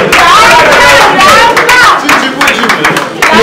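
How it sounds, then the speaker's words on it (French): Applause and cheering from an audience at a meeting of artists and musicians in the Congo, a dense crowd roar of clapping and voices filling the whole stretch at a steady loud level. "Kalala Midjibou, Jean Goubal, Kalala, sous vos applaudissements."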